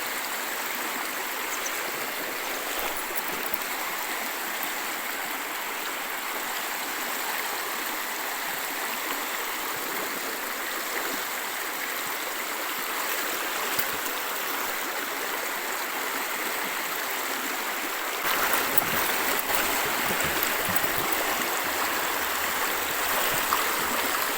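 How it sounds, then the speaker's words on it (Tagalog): A mountain stream in Potia, Alfonso Lista, Ifugao flows with a constant close rushing and babbling that grows a little louder near the end, with no voices. "Ipaparinig ko sa inyo yung ganda ng tunog ng tubig."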